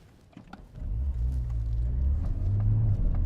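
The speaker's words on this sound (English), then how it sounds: "The gearbox is gonna probably rip through those gears, getting me up to hot, yep, 6th gear already here." A 2021 Porsche 718 Cayman GTS 4.0 flat-six builds from quiet to a steady, loud low engine drone as it pulls up through the gears, with a rising rumble in the last second.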